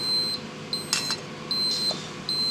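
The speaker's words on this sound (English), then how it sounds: "The alarm has sounded." A fault alarm on an inverter paraffin heater sounds in short electronic beeps, repeated at an even pace, with a brief clatter between two of them and a steady hum underneath.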